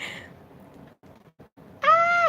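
A house cat gives one clear, rising and falling meow near the end, following quieter rustling and pauses indoors.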